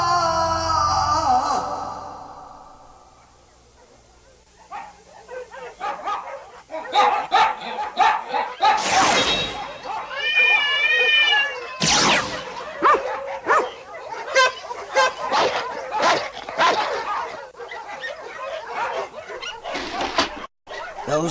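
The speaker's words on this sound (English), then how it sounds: "They won't stop barking." Dogs barking in a dubbed anime episode, a string of sharp yips and barks with whimpering tones, fairly loud and continuous over a busy backdrop with brief voice sounds.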